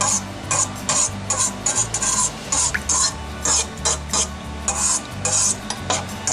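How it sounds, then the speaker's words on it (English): A packet of yeast stirred into a pizza dough mixture in a bowl, heard as a close, steady run of quick scraping and clinking strokes of a utensil against the bowl in short repeated bursts. "I'm just going to stir this around so it all gets in there"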